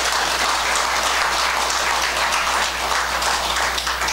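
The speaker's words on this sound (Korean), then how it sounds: "내 말이 맞다고 하면 박수를 한번 쳐봐." An audience applauds steadily and loudly throughout at a Sunday joint Buddhist dharma service at the Jeonbuk Buddhist Hall, with dense clapping and no speech over it.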